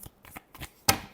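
Tarot cards being shuffled by hand, several quick papery riffles and snaps in an irregular burst, close and soft, with one sharper slap near the end.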